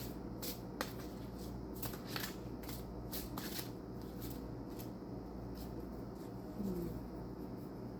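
Tarot and oracle cards shuffled by hand, a run of soft crisp riffling flicks and papery slides, fairly close, over a steady low background hum.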